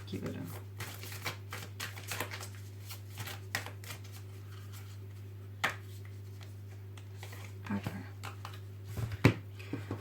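Oracle cards shuffled by hand during a reading, soft papery riffles and flicks in irregular bursts, faint and close beneath a steady low hum, with a sharper snap near the end.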